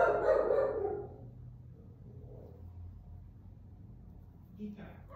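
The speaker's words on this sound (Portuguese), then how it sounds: "Aqui que a minha cachorra tá doidinha." A female dog barks loudly at home at the start, a short close burst over low rumbling background, during a crochet session; the room then settles before a voice begins at the end.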